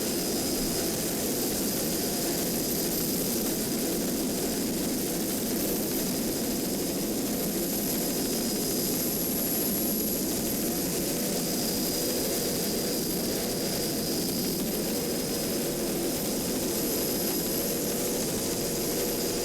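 The Class 5 offshore racing powerboat Typhoon roars through a 2007 offshore race, a loud, steady engine drone with a hissing wash that holds for the whole stretch with no voices.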